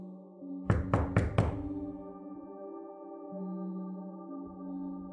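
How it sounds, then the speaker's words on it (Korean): Four quick, sharp knocks on a restroom entrance door ring out close and clear, followed by a quiet sustained background drone. "누군가 화장실 입구문을 두드리는 소리가 들렸습니다."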